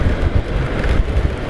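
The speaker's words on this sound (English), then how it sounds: "it is very, very windy" Strong wind buffets the microphone on a motorcycle ride in a continuous, loud rumbling roar with gusty swells and no other sounds.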